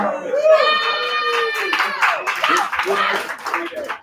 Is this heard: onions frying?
no